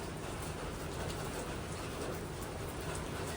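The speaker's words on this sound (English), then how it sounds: "Can you guys hear the rain?" Faint, steady hiss of rain falling, an even wash of noise with no distinct drops or voices, heard from a distance.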